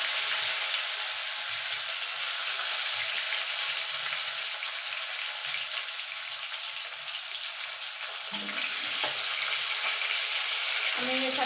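Nigella seeds and tomatoes fry in hot tempering oil for a vegetarian ash gourd dish, giving a steady, loud sizzle with faint stirring scrapes throughout and no talking.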